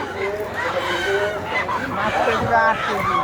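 Poultry at an animal market in Dammam, Saudi Arabia: dense overlapping honking and squawking calls of geese and fowl mixed with background crowd murmur, continuous and close.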